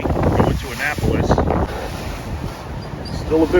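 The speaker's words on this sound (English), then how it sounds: "Still a bit windy and a little rough out here, but not too bad." Wind buffets a microphone aboard a boat on the rough Chesapeake Bay, a loud, gusting low rumble with water wash beneath, and a voice speaks briefly over it.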